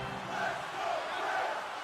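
A simulated arena crowd at an ice hockey video game keeps up a loud, sustained roar with gentle swells of cheering.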